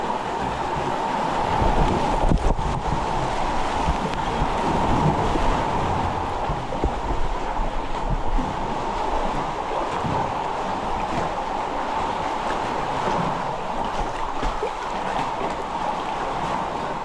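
Rough ocean water on a kayak trip off Catalina Island, a continuous loud churning rush of waves and splashing close by, steady for the whole stretch with no voices.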